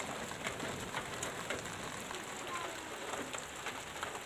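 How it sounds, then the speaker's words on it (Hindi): Heavy rain starting to fall, a steady, fairly soft patter of drops hitting surfaces, with scattered distinct drips standing out over the continuous wash. "बारिश अच्छी खासी स्टार्ट हो गई है"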